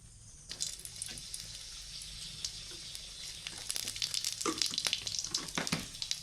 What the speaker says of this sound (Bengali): কড়াইয়ে ওই তেলে এইবার শুকনো ঝাল আর গোটা জিরে ফোড়ন দিব।